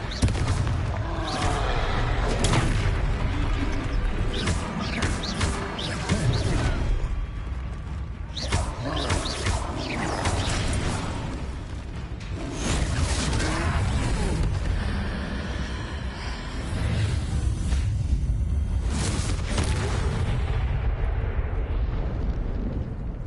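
Fiery Confringo spell blasts in a troll battle in Hogwarts Legacy, with repeated loud explosive bursts and rumbling impacts spread across the scene, layered over a dense, busy game soundscape.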